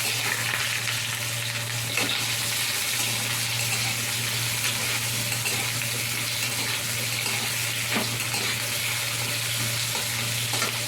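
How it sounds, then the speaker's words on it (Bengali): Potato pieces frying in hot oil for a fish curry, a dense continuous sizzle that holds steady and loud throughout, close up, with a couple of faint clinks. "আলুগুলোকে তেলের মধ্যে দিয়ে একটু ভালো করে লাল লাল করে ভেজে নেব।"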